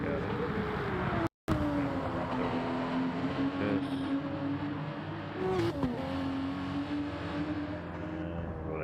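Porsche race car engine in a Le Mans racing video game, a steady sustained drone with slight pitch shifts, loud and continuous, with a brief dropout early and faint voices underneath.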